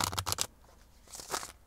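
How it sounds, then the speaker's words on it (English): A quick burst of tarot cards being shuffled, a few crisp riffling flutters close by, followed by a softer shuffle after a short pause. "Let me shuffle here."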